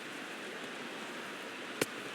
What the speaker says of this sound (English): That rain is really coming down now.